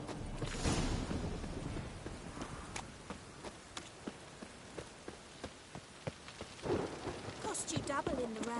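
Rain pours steadily in The Witcher 3 while thunder rumbles at intervals, with scattered sharp drops and cracks over a constant hiss; faint voices are heard briefly.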